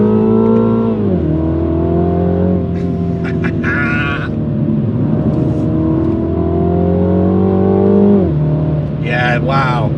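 A 2021 MINI JCW pulls hard up a twisty French mountain pass, its engine note climbing steadily and dipping briefly at two gear changes, loud and close throughout the whole run.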